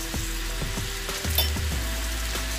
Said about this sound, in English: So I'm going to saute those for a minute.